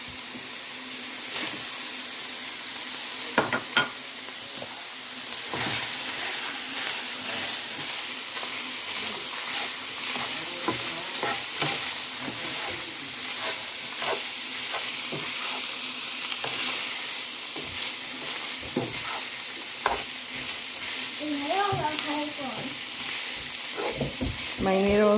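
Ground beef, a mixture and mushrooms frying in a pan for a poor man's goulash, with a steady broadband sizzle, stirring scrapes and small pops throughout, and brief speech near the end.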